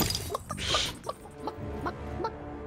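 A chicken in the video game Carlos The Matador, a character turned into a hen, clucks in a quick series of short, close bursts.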